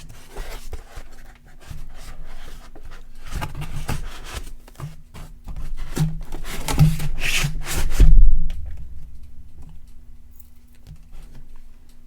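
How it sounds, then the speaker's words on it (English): An electronic synthesizer is pushed into styrofoam packing blocks with cutouts for its knobs, giving close squeaky rubbing and crunching that builds to a firm press, then quiet. "This goes right back in the box to these styrofoam blocks that have cutouts to support the knobs."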